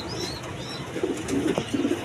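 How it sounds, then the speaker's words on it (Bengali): A pair of Bombai pigeons, a golap pair, coo in short low bursts that grow stronger toward the end, close by, with faint high chirps from other birds early on. "এক পেয়ার বোম্বাই আছে দেখেন, একবার গোলাপ জুটি কোয়ালিটি সম্পন্ন কবুতর"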